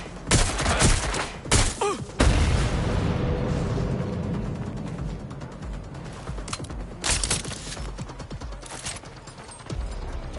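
Rapid bursts of gunfire and heavy explosive blasts in Watch Dogs Legion, loud and close, with dense overlapping shots, a big boom near two seconds and further volleys throughout.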